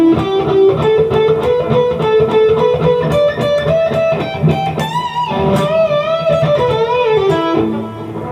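An electric guitar plays the solo section of the Scorpions' Rock You Like a Hurricane with a distorted tone, loud and up close, full of bends, releases and pull-offs in a steady melodic line.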